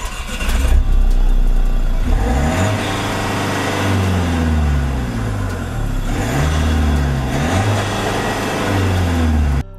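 Mercedes A-Class with a 1.8 litre engine running and revving close by, a steady loud drone with rising and falling pitch sweeps as the throttle is blipped repeatedly, no voices.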